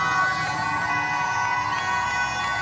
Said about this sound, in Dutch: de politie met de lichtjes en eh, de sirenes